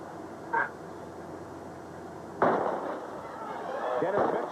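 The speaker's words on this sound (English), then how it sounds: "That was a pretty late gun to call him back that time" A starter's gun recalls a false start in a 100m race at the 1992 Olympic trials in New Orleans. One sharp report cuts through steady stadium crowd noise, with a fainter pop earlier and a rumbling crowd after.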